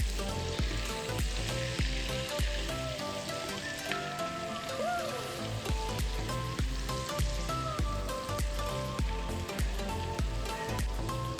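Whole stuffed onion curry cooking on low heat in a pan gives a steady, soft sizzle that runs unbroken beneath rhythmic background music.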